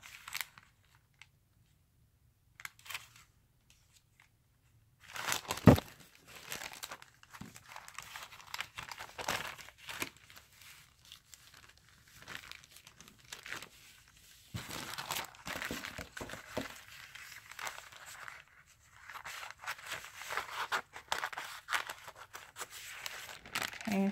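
Painted tracing paper is handled and crinkled, making dry crackling and rustling bursts close by that start after a quiet stretch and continue irregularly, with occasional sharper crunches.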